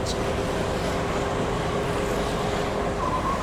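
Racing karts at a live karting event run along the track past the start-finish area, a continuous mid-distance engine drone with a steady, noisy roar that holds throughout the short stretch.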